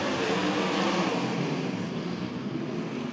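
Several 360 sprint cars roar together at Cottage Grove Speedway during a trophy dash, a loud, steady, dense engine blare that swells slightly and holds throughout with no voices.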